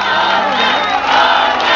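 A large live crowd roars and cheers loudly for a national band at an outdoor concert on a street in 2013, a dense sustained wall of voices, close and with no other sound.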